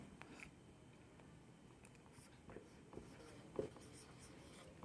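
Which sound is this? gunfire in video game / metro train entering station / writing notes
writing notes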